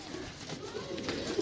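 Pigeons coo at a pigeon sale, a low continuous burbling murmur from several birds close by, with faint voices in the background.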